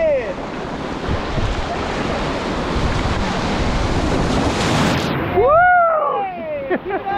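Whitewater rapids crash and churn around a raft in a loud, continuous roar of surging water, ending with people whooping and shouting as the wave passes.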